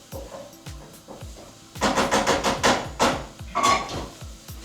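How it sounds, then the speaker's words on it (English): A wooden spoon stirs soffritto in a pan, with a burst of quick, rhythmic knocks and scrapes against the pan, close and fairly loud, after a quieter stretch of low clatter. "I'm going to grab a wooden spoon just to make sure it doesn't stick to the edges."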